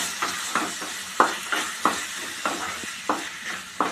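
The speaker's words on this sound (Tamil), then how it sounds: "இதில் மொச்சையை சேர்த்துருவோம் சேர்த்து நல்லா வதக்கி விடுவோம்" Tomato, onion and field beans being sautéed in a pan, a spatula scraping and clacking in an even rhythm of about two strokes per second over a low sizzle, close and loud with no voices.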